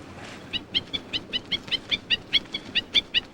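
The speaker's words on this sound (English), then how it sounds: "The edges of these ponds are a favorite haunt of Hawaiian stilts, which come here to reap the rich harvest of shrimp." Hawaiian stilts calling at a shrimp-rich pond edge: a steady run of about fifteen sharp, evenly spaced high yelps, moderately near, over a faint low background rumble.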